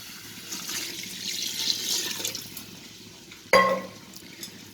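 Water poured into a pot of Tamil country chicken kulambu, a steady splashing stream that runs for a few seconds before a sharp clatter, with no one talking.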